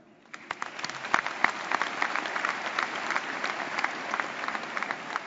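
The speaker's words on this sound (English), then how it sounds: "Let us also applaud their effort." A crowd at a university commencement claps steadily, the applause rising quickly from a quiet start and holding at a lively, even level throughout.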